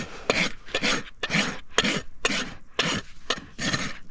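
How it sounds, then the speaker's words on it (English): A rasp files a horse's hoof wall during a full trim on a difficult-to-trim horse: about eight steady, rhythmic rasping strokes, close and fairly loud, with no talking. "Get that rasped nicely."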